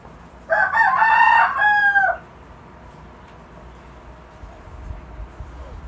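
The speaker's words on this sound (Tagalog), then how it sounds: "Tumitilak na yung manok namin guys sa labas." A rooster crows once outside, a loud, clear call lasting under two seconds, followed by quiet room ambience.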